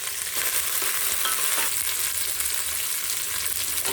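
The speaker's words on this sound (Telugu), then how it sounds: "పుదీనా వేసుకుందామండి, కొంచెం కరివేపాకు, పచ్చిమిరపకాయలండి చీల్చినవి వేసుకొని కొంచెం వేసుకోండి." Mint, curry leaves and slit green chillies frying in hot oil for Hyderabadi bagara rice, a steady, close, loud sizzle with faint stirring throughout.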